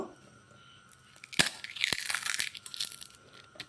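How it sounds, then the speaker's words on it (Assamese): Crisp pani puri (phuchka) shells are crushed by hand close up, giving a sharp crack followed by a quick flurry of brittle crunching and crackling, with no talking. "ফুচকা দুটামান ইয়াতে ভাঙি দিম"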